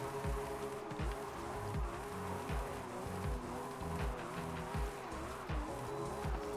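A 1971 Nissan Skyline GT-R rear-wheel-drive drift car doing donuts, its engine droning in a steady rhythmic loop while the tires squeal continuously, loud and close, with no talking.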